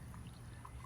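Water poured to dilute muriatic acid for cleaning tile and grout, a brief steady splashing pour, close and fairly quiet.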